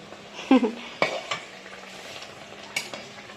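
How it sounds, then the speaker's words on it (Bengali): Luchi frying and puffing in hot oil for an evening snack, with a soft sizzle under a few sharp utensil clinks and knocks, close by and fairly quiet. "লুচিগুলো কি সুন্দর করে ফুলতেছে"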